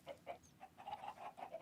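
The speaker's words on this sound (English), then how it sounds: "How can I hear so many chickens?" Chickens in the video game Minecraft cluck in a steady run of short, quiet calls, several birds overlapping at an even pace with no talk.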